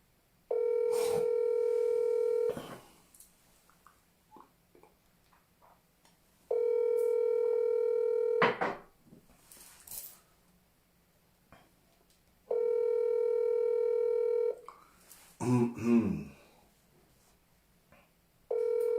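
An outgoing WhatsApp call rings unanswered: three long, even ringback tones separated by quiet gaps, with brief muffled noises in between.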